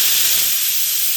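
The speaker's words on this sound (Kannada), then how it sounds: "ಇಲ್ಲಿ ಇದು 2ನೇ ವಿಷಲ್ ಕೂಗ್ತಾ ಇದೆ ಇವಾಗ" A pressure cooker on a home stove vents a loud, continuous hissing whistle of steam, heard close and alone for a short moment.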